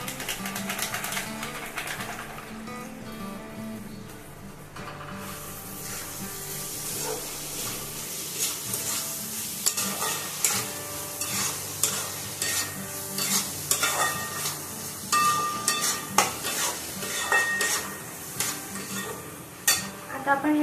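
Homemade Chinese-style fried rice stir-fried with soy sauce and Chinese masala, a spatula scraping and clattering against the pan in a steady irregular rhythm over a soft sizzle, close and fairly quiet.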